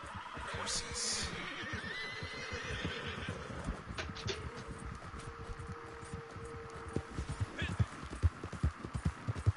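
Horses neighing and whinnying in the Red Dead Online video game, with hoof clip-clop and a steady rumble of play beneath, while people talk over it.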